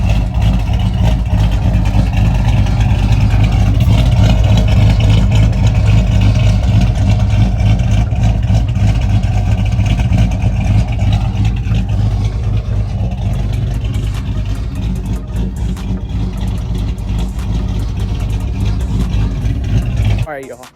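The engine of a Chevrolet Trailblazer SS with an aftermarket cam idles loud and close, a deep, lumpy, choppy rumble with occasional light revs, steady throughout before cutting off at the end.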